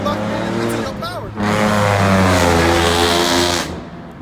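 A car with a loud exhaust revs hard, a rough engine roar that rises and holds before dropping away, close and loud with a voice talking over it.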